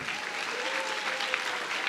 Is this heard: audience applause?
yes